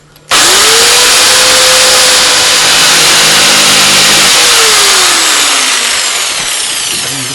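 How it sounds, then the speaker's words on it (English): A power jigsaw cuts curves in a yew chair arm for a Windsor chair. It starts abruptly, then runs loud and steady for about seven seconds with a whining motor pitch that rises and later drops. "I'm going to cut along here with my jigsaw first and then around"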